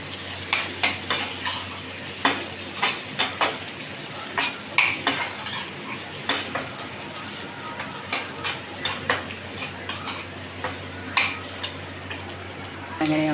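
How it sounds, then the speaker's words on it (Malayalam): Ingredients stirred in a cooking pan with a spoon, producing a steady series of close scraping and clinking strokes over a faint background sizzle, no voices. "എന്നിട്ട് നന്നായിട്ടൊന്നിങ്ങനെ ഇളക്കുക"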